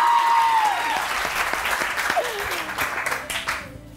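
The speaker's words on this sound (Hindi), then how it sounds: "आप तालियां बजा ले" A studio audience on a morning TV show claps in a loud burst of applause that gradually thins and fades, with some faint background voices.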